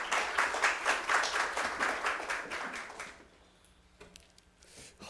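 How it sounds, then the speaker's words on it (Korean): A church congregation at a morning worship service claps to welcome the pastor: lively, rhythmic applause for about three seconds, then it fades into near silence with a few soft taps. "목사님 나오실 때 박수로 환영의 인사 나눕니다."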